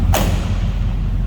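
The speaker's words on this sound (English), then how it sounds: "Door closes nicely." A single solid thud of a 1980 Chevrolet K10 Silverado pickup door shutting close by, followed by a steady low engine rumble.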